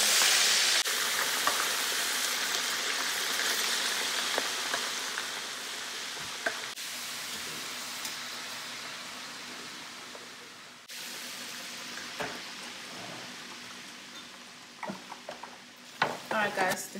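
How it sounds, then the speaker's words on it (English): Steady crackling sizzle of pork pieces for Haitian griot frying in hot oil, continuous and close, with occasional clicks and scrapes of stirring. "Frying the griot."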